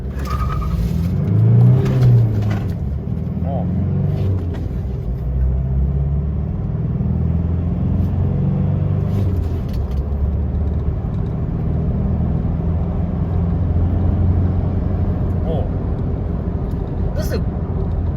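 An Isuzu D-Max V-Cross 3.0 pickup engine fitted with a FLEX air filter rumbles and revs up close, a heavy low drone that swells and holds steady, with a voice briefly heard at the start.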